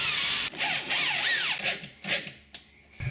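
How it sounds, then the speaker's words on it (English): A power drill pre-drills holes and drives screws into a wooden door frame patch on a kicked-in door, giving several short whining bursts that rise and fall in pitch, with brief pauses between, close and fairly loud. "I'll pre-drill some holes and screw it and glue it in place."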